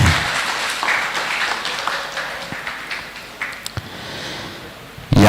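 Applause at a Scout Day anniversary ceremony in Tegal, a crowd clapping steadily for several seconds, then thinning into scattered claps before a final burst.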